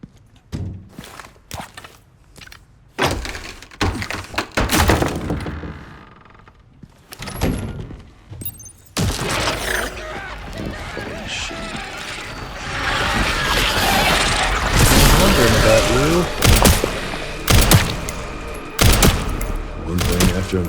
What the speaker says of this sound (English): zombies be throwing bombs now